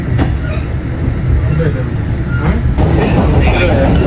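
A Japanese train pulls into its final station, with a loud steady rumble of wheels and carriage noise close by. A recorded announcement plays over the train noise.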